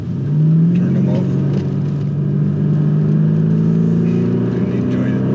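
An Audi S8's engine drones steadily from inside the car as it drives along a road, a loud, continuous low rumble with gently rising pitch, like sustained acceleration.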